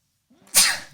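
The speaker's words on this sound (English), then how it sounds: "That's the first time I ever sneezed on a podcast." A single loud, sharp human sneeze bursts out after a brief inhale, close up, alone without talk.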